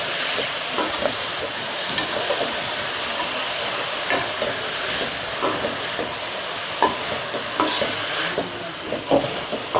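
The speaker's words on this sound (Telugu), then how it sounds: "తోటకూర కలుపుతున్నాను." Amaranth leaves stirred into a hot frying pan for an Andhra-style amaranth and moong dal fry. A bright, continuous sizzle runs throughout, broken by sharp spatula scrapes and clacks at an irregular rhythm.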